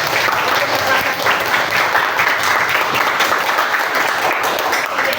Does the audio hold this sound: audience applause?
yes